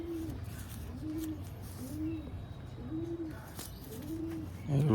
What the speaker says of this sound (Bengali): এগুলো পায়রা